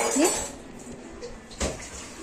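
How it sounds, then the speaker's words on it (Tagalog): Someone washes dishes at home, with water splashing and running and a clink of dishes and cutlery, brief and moderately close. "Naghuhugas."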